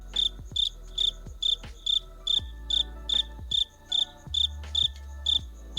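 Crickets chirping as an inserted sound effect, a regular series of bright pulsed chirps repeating about twice a second, clear and alone against a low hum.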